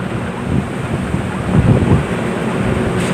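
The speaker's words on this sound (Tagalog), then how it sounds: "Medyo mahangin na po." Wind blowing across open rural ground, a continuous low buffeting rush with gusts on the microphone and no speech.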